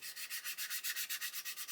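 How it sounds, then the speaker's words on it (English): Sanding the wing of an Airfix 1/72 Lancaster B.III Dambuster plastic model kit, quick rhythmic rasping strokes at about five a second, close and soft, with no voices. "we can see that I'm sanding away here"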